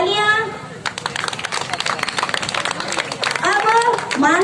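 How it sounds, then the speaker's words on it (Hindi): An audience at a school event honouring Navodaya students claps in a short burst of applause, mixed with crowd babble and voices at the start and end. "तालियां"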